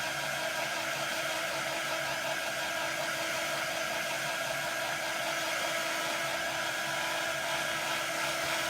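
A hair dryer drying a craft project, a loud continuous whirring blow that holds steady and close for the whole stretch, with no talk over it.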